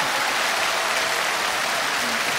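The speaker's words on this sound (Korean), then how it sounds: "다시 한번 큰 박수 부탁드립니다." A studio audience at a televised Korean singing contest's 30th anniversary special applauds loudly and continuously, a thick, even roar of clapping that fills the whole moment without any talking.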